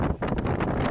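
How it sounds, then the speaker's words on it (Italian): Strong wind on a coastal trail buffets the microphone in a brief, loud, rumbling gust with fluttering pulses and no voices. "Madonna, che vento che c'è."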